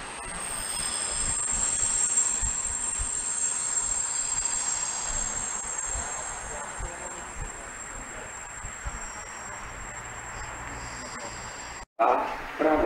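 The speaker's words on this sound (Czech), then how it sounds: "Posun Hydry Kristýnka v Mělníku." A Hydra locomotive shunts at Mělník station in the Czech Republic, with a low rolling rumble and thin, high wheel squeals drifting over it. The sound is moderately distant and slowly fades before a sudden cut.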